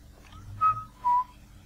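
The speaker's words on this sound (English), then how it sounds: "Hope the whistling wasn't catastrophically bad for my microphone" A person whistles two short, clear, sustained notes with a brief gap between them, close to the microphone over a quiet background hum, while a Minecraft game plays.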